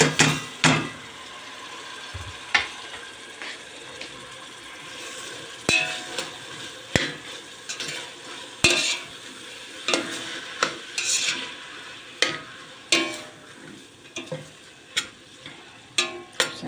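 Spinach roots with tomato paste being sautéed for a soup, a spoon scraping and knocking against the pot in irregular strokes over a quiet sizzle, close and clear with no talking.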